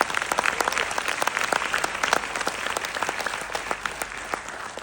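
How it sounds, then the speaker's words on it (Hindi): Dense applause from a workshop audience in a hall, many hands clapping steadily and fairly close for the whole stretch, with no speech over it. "एक बार सब लोग साथ में तालियां बजा दीजिए"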